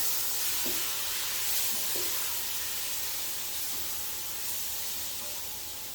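Food browns in a hot pan with a steady sizzling hiss and a few soft stirring scrapes, close and moderately loud, no voices.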